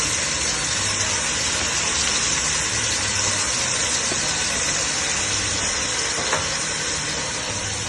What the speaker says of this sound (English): you just stir and saute this and stir it so it should cook